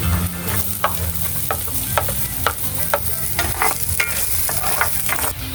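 Onions sizzle and fry in a pan while a spatula stirs them, giving a steady hiss broken by repeated sharp scraping strokes, close and fairly loud.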